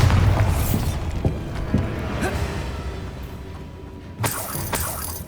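Bombarda blasting spells in Hogwarts Legacy go off as loud, shattering booms, with a heavy burst at the start and another sharp crash near the end over a rumbling game background.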